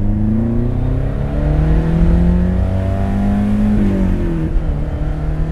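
A 1967 Ford Lotus Cortina Mk2 engine roars continuously in a full four-gear pull, pitch rising then dropping as it shifts up a gear, exhaust loud and close.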